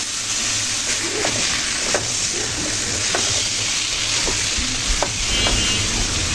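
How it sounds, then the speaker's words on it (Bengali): Vegetables coated in spices are stirred in a hot pan for a carp and cucumber fish curry, giving a continuous close sizzle broken by occasional scrapes and knocks of the spatula, with no talking. "সবজিগুলো ভালো করে নেড়ে চেড়ে দেবো মশলার সাথে, যেন মশলাগুলো সবজির সাথে ভালো লেগে থাকে।"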